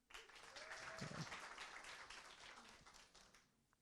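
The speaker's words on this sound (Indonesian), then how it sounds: "Boleh minta tepuk tangannya?" Applause from a comedy show audience swells up quickly and holds as a steady wash of clapping, with a few faint voices mixed in before it tapers off at the end.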